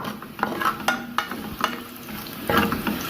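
Garlic and onion frying in a pan for sausage pasta, a soft steady sizzle with several stirring scrapes and clinks at irregular intervals, close and moderately loud, with no talking.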